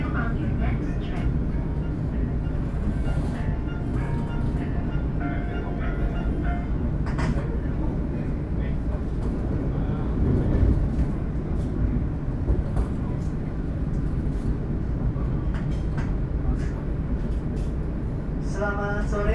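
Interior of the Argo Parahyangan passenger train running between Bandung and Jakarta, a continuous low rumble and rattle of the carriage with clanks and squeals, while voices talk over it.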